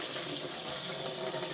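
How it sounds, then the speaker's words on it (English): Cold water runs from a tap into a sink of washing-up liquid for dyeing, a steady loud hiss and splash with no voices. "this is just cold tap water at the moment"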